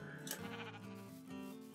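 Sheep in Minecraft bleat twice, short nasal wavering calls close and clear, the second starting just after the first fades.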